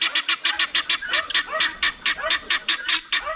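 Guinea fowl in a backyard flock call in rapid, repeated harsh squawks, a steady rhythmic series of loud, close cries with no talk.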